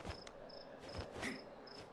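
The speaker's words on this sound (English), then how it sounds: "like the crickets are rubbing their legs at the back?" Crickets chirping at night in the video game State of Decay 2, a steady high repeated trill pulsing at regular intervals, faint and alone with soft low thuds in between.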